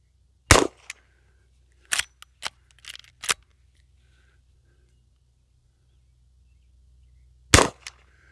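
Gunshots from a Henry All Weather side loading gate .44 Magnum lever-action rifle: a loud sharp report, then a burst of four quick clacks of cycling action and a shot, a long pause and a final loud report, no talk.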